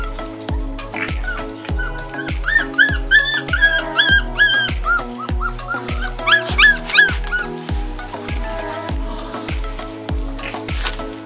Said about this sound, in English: These are the wild puppies that came here and they have grown